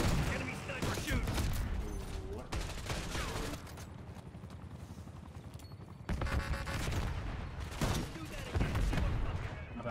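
Rapid video game gunfire from a first-person shooter comes in dense bursts and volleys, loud and close, separated by brief lulls, while a player talks now and then over the action.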